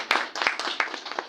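A small audience at a UNDP South Sudan press event claps in a short burst, with sharp uneven hand claps close by.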